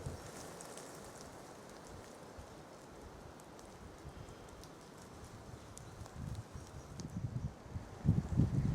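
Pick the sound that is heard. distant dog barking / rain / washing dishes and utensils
rain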